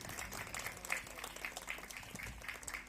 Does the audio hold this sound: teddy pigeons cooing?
no